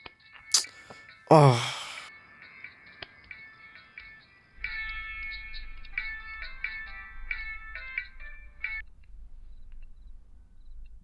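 A phone ringtone plays a bright repeating melodic pattern for several seconds over a low hum, after an earlier short gasp-like sound and a few sharp clicks.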